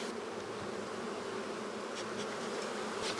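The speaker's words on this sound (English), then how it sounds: "These bees are totally disoriented because I'm standing in their flight path" Dense, steady buzzing of many honeybees swarming close by at an open hive, a continuous drone with individual insects passing near, no voices.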